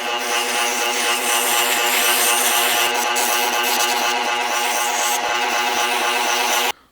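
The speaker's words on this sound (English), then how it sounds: "at the oscillating sander, I've got a 1/2 inch sanding spindle on here" Oscillating spindle sander with a half-inch sanding spindle smoothing wooden edges and the insides of holes, a steady buzzing whir with a regular pulsing rhythm, close and fairly loud, running alone until it stops abruptly.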